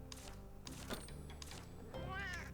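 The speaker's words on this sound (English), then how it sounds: "That's a cat. That is a cat." A cat meows in Monster Hunter Stories 2: Wings of Ruin, a short rising and falling call near the end, sitting over steady game music.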